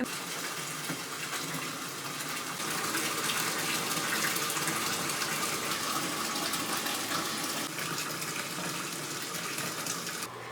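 Tap water gushes steadily into a filling bathtub, a loud continuous rush with no pauses and no voices.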